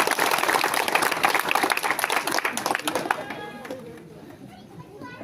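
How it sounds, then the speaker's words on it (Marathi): A crowd at an outdoor political corner rally claps in a dense burst that thins out and fades after about three seconds, with voices and chatter mixed in. "काय आवाज नाही तुमच्या टाळ्यांमध्ये,"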